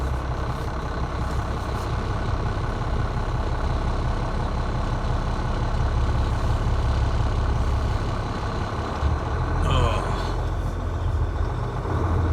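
Heavy rumble from a truck cab as the rig rolls along a road in Ohio, a steady, loud and close engine drone that holds for the whole stretch, with faint talk underneath.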